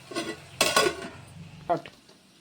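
A metal lid is set onto a pot of mutton keema pulao, producing a couple of close clattering knocks of metal on metal with a lighter clink afterward and quiet background between, no talking.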